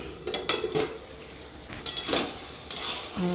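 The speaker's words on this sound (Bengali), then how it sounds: "ঢাকা খুলে দেখব তরকারিটা হয়েছে কিনা" A metal lid clanks and scrapes as it is lifted off a pot of fish-head and vegetable curry, several close clinks and rattles over a soft background.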